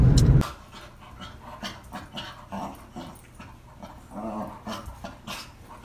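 A dog pants rapidly and rhythmically close by in a backyard, with faint whimpers, after a brief loud burst at the start; no clear barking stands out.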